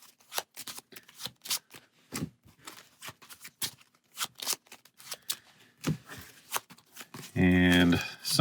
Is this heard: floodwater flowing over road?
no